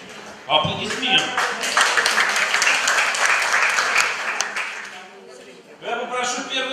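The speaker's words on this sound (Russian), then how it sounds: "Аплодисмент." Audience applause at a live televised event fills several seconds at steady strength, then thins and fades; a voice comes in just before the clapping starts and again as it dies away.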